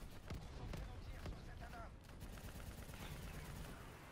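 Rapid bursts of machine gun fire in a video game crackle in quick succession, fairly faint, with scattered sharp shots and a low rumble underneath.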